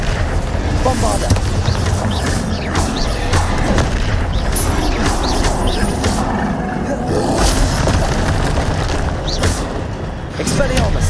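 Blasting spell explosions in Hogwarts Legacy, a steady barrage of booms, crashes and roaring impacts over a dense, loud combat mix lasting several seconds, with voices likely mixed in.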